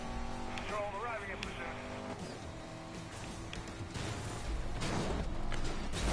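A Bugatti race car engine roars in Need for Speed: Most Wanted (2012), revving and shifting continuously with mechanical whines and swelling to a louder surge near the end, while someone talks over it.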